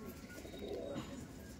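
Pigeons kept by a hobbyist coo softly in a loft, a low murmuring coo that stays quiet and somewhat distant against a faint background.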